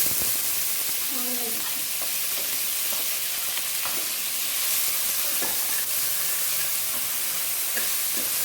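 Cumin seeds crackle and sizzle in hot oil, a steady bright frying hiss that runs the whole time, with scattered pops and light clinks from stirring in the pan.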